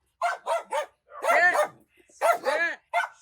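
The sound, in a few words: dog barking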